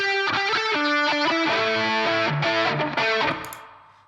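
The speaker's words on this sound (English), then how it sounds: "So I've got this kind of fluttery 16th note triplet thing going on with a lot of feedback. So it's kind of got a vintage sort of slapback sort of sound." Guitar through a vintage slapback delay with heavy feedback, a distorted punk riff with fluttery repeating echoes trailing each note, loud and sustained before fading out.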